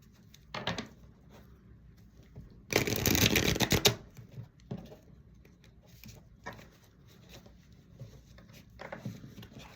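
Oracle cards from a love oracle deck being shuffled by hand: a short riffle early on, then a loud dense flurry of card shuffling lasting about a second, followed by softer scattered card taps and slides, no voices.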